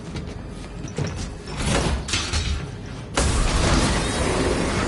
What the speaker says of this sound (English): Door!